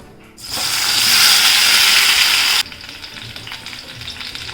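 Tomatoes dropped into a spoonful of hot oil in a pan on the stove for tomato chutney, bursting into a loud, steady close sizzle that runs for about two seconds, then drops to a softer crackle.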